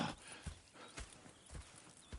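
Horse hooves clip-clop at a steady walking pace in the Red Dead Redemption 2 video game, a soft regular beat of about two steps per second, fairly quiet and alone.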